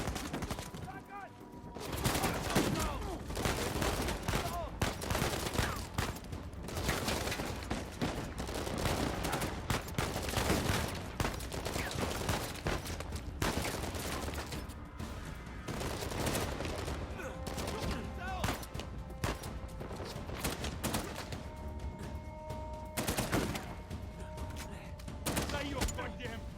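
Firefight in the action game Uncharted 4: a sustained stretch of overlapping gunshots and clattering fire at moderate loudness, with enemy voices shouting at times through the combat.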